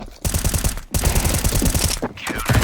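Rapid pistol fire from a USP in a Counter-Strike 2 match on the Vertigo map, a dense string of sharp, loud shots in quick rhythm with a brief gap near the start and another short pause before the final burst.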